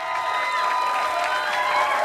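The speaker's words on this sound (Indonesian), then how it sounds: "Sekali lagi tepuk tangan buat coklat." Studio audience applauding on an Indonesian TV variety show, a dense steady wash of clapping that fills the whole stretch at an even, fairly loud level.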